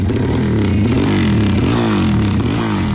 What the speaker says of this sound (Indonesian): pakai knalpot brong segala lagi